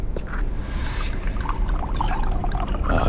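Water poured into a glass in Cyberpunk 2077, a continuous close trickling stream lasting about three seconds under a busy background.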